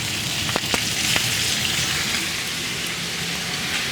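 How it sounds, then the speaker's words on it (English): Onions and shishito peppers sizzle loudly in hot oil in a pan, a steady dense crackle with a few sharper pops early on, close and continuous, with no voices. "I'm going to add my onions and right into the center, right into my oil."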